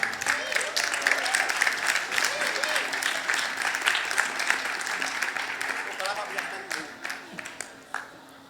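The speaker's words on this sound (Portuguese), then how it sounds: "Salva de palmas" Audience applause at a social entrepreneurship festival event, steady dense clapping from a large crowd that sustains throughout, then thins into scattered individual claps near the end.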